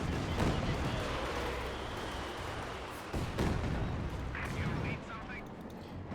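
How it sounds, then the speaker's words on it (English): Katyusha rocket artillery fires in the Company of Heroes 2 video game, a dense, rumbling barrage of blasts and whooshes sustained throughout, with a caster's voice talking over it. "Katyusha firing away there."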